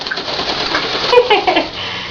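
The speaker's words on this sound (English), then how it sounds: "Look at the bird." A pet bird coos and chirps close by, a brief burst of soft calls with a little rustling, all within about two seconds.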